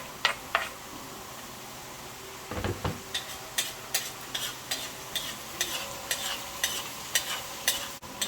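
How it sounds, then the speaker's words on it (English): Green onions and scallions fry in a pan with a steady sizzle, while a utensil scrapes and stirs in a regular rhythm of short, close strokes. "we have to fry it up"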